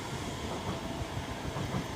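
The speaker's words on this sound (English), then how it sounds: "Sorry about the train that's interfering with the beauty of nature" A passing train rumbling loud and steady, with a continuous broadband roar and no voices.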